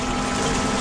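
A pump pushes water through a hopper during a water-wash run, a loud, close, steady churning rush with a constant low hum underneath, unbroken for under a second.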